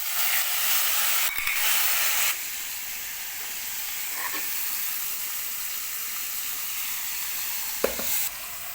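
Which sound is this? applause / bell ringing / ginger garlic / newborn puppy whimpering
ginger garlic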